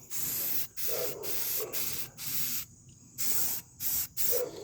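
Rust-Oleum satin black enamel spray paint hisses from an aerosol can in a series of about eight short bursts with brief pauses between, close up and fairly quiet.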